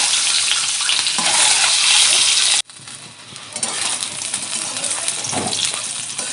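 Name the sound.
eggs frying in oil for egg curry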